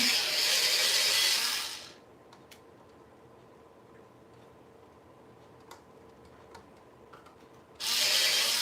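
A drawing pencil is quickly sharpened in a sharpener, with a soft grinding whir at the start and again at the end. Between the two bursts are faint ticks and light handling clicks in a quiet room.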